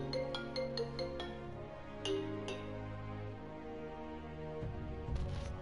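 A phone ringtone for an incoming call chimes in a steady tonal melody with bright, bell-like plinks, sitting moderately loud and close with no talk over it.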